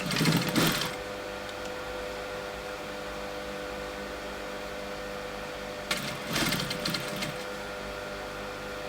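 A sewing machine stitches heading tape onto a wave curtain in two short bursts, with a steady low motor hum running in the quiet stretch between them.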